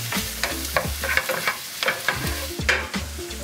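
Onions frying with bacon in a pan fill the space with a steady crackling sizzle, broken by rhythmic scrapes and knocks of a spoon being stirred, close by.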